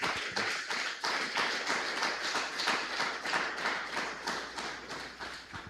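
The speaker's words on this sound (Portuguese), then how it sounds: "Aplauda o Senhor." Church congregation applauding during a Portuguese-language sermon, a steady rhythmic clapping that carries on without a break for several seconds, moderately loud and fairly close, with no talking over it.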